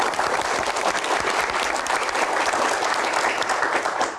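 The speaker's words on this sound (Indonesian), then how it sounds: "Boleh tepuk tangan yang paling meriah untuk Pak Bahlil." An audience gives enthusiastic applause for Pak Bahlil at a Q&A event, with dense, steady clapping that holds at an even level throughout and no talking over it.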